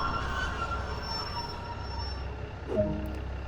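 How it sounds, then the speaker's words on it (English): A simulated train on a West Cornwall local line in Train Sim World 2 brakes to a stop, a steady low rumble that carries throughout, with a brief metallic squeal rising near the end and no voices. "Try to bring the train to a steady stop."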